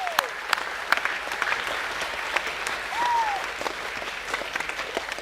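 Boys at a school academic assembly applaud visiting families, a moderate, somewhat sparse patter of clapping in a large hall, with a couple of faint whistle-like tones rising briefly over it.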